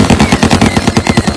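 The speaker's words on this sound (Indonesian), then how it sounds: "Suara tembakan membuatnya terkejut" Rapid automatic gunfire in a film scene, a loud, close burst of evenly spaced shots firing in quick succession without pause.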